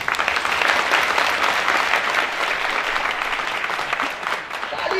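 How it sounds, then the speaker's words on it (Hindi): An audience claps together at a spoken event, a dense, sustained burst of applause that stays strong and then slowly tapers off. "एक बार तालियां ठोक लो।"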